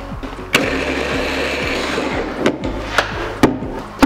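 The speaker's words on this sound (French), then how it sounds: "Et je vais pouvoir mixer mon pois chiche." A kitchen blender purees cooked chickpeas with a little liquid for Lebanese hummus, a loud continuous whirring grind with occasional knocks and thumps as the contents shift, heard up close without talk.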